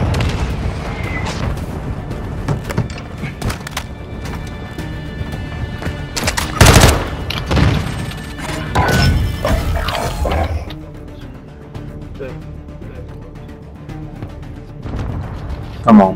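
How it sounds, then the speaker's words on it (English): Mortar strike explosions in Call of Duty: Modern Warfare II land amid rattling gunfire, with several heavy booms clustered near the middle before the battle noise thins out. "Friendly mortar strike inbound."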